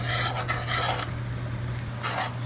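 Spinach gets stirred around in a pan while cooking chicken, giving soft scraping and rustling strokes in a few bursts over a steady low background hum, close but quiet and without speech.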